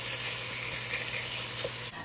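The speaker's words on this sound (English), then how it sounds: "Now I'm going to add some tomato paste and I'm going to let that cook with the veggies for a few minutes" Tomato paste cooks with vegetables in a hot pan for Sunday gravy, producing a continuous loud, close sizzle and hiss that stops abruptly at the end.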